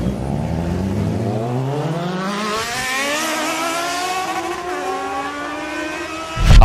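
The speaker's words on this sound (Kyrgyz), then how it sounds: "Эми салыштыруу үчүн мотоциклдин үнүн уккула." A motorcycle engine revs hard with a steadily climbing pitch, one long continuous run-up that sounds close and loud, ending in a sudden louder burst.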